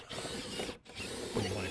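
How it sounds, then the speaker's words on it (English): A 4 1/4 inch hole saw grinds through the gable end of a house to cut a dryer vent opening, a steady close-up rasping drone that breaks off briefly midway and then resumes. "I'm just drilling through with a 4 1/4 inch hole saw"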